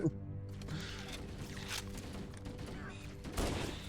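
Rapid automatic gunfire in Halo CE rattles off in quick bursts at low volume, with game effects around it and someone talking excitedly over the shooting.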